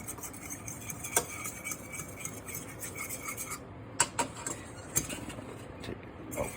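A utensil scrapes and stirs pan drippings with flour in a pan on the burner, a soft gritty rubbing with several sharper clinks of metal on the pan, close by and without speech.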